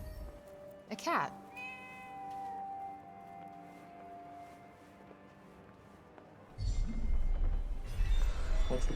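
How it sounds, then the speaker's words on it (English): A cat in the Forspoken video game lets out a clear, drawn-out meow with a rising and falling pitch, set over a steady ambient city hum, before a louder rumbling swell of background sound. "A cat."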